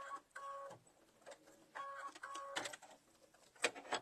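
A sewing machine runs a quick back stitch on a fabric pumpkin bag, making short mechanical whirring bursts separated by brief pauses, faint and close, with no talking.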